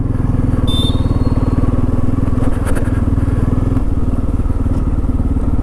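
A Bajaj Pulsar F250 motorcycle rumbles steadily at close range with a loud, even, throbbing engine note and a few faint clatters, and no voices break through.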